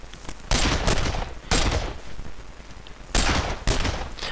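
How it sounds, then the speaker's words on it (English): Gunfire from the Vietnam War strategy game Men of War: Vietnam bursts out in several loud, sharp volleys and scattered shots, with crackling between them. "So I'm taking over, doing some manual shooting here."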